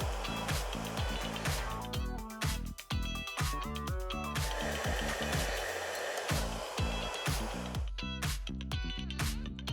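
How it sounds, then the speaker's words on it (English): A blow dryer runs steadily while hair is dried with a round brush from root to ends, a loud continuous blowing close to the listener with a rhythmic pulsing beneath it. "direct the blow dryer down with your round brush from the base all the way through the ends"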